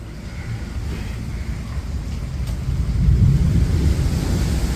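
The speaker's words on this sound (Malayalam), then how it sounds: "തിരമാല വന്നാൽ ഇതിനകത്താണ് ഇവിടെയാണ് കുത്തുന്നത്" Monsoon ocean surf at Chellanam on the Kerala coast rumbling steadily with wind, swelling louder toward the end as a wave surges in toward houses.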